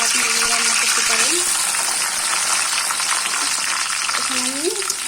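Chopped onion with bay leaves, cardamom and cloves frying in hot oil for a chicken curry, a loud continuous sizzle with stirring, and a voice speaking briefly over it.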